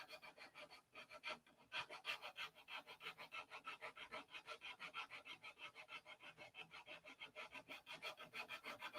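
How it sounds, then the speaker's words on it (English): Sanding fillets on a P-47 model airplane, a faint, close rhythmic back-and-forth rasping in regular strokes, steady and continuous with a brief pause early on. "11 watchers watching me sand."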